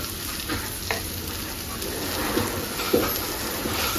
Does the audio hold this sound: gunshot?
no